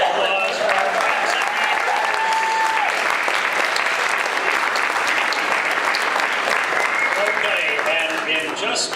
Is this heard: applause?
yes